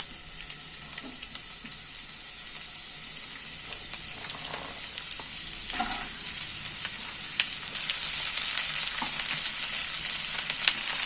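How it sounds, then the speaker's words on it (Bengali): Chopped carrots frying in a little oil in a pan, giving a steady, close crackling sizzle with scattered sharp pops that grows slightly louder over time, with no voices. "এবার কাটা গাজরগুলো আমি প্যানের মধ্যে তুলে দিচ্ছি।"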